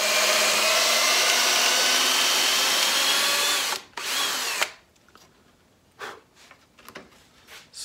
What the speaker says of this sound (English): So drill these two holes.